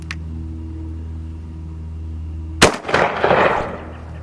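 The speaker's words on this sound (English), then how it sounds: "I'm gonna shoot into the dirt." A single loud blast from a Panzer Arms SCR XII 12 gauge shotgun fired into dirt, a sharp close report cutting through a low steady hum and followed by a brief rumbling tail.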